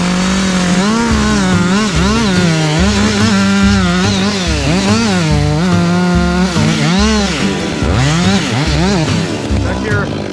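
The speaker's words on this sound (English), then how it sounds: "Now we'll start back cut, but we'll leave a nice fat hinge on this side before we wedge." A chainsaw runs loud and close at high revs while making the back cut on a leaning tree, the engine pitch rising and dipping as the bar bites into the wood.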